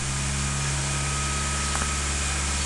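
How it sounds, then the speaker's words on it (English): A Honda Civic Hybrid engine runs with electric assist, giving a constant, even mechanical hum with a faint tonal whine. The level stays flat throughout, and no one speaks. "Revving up."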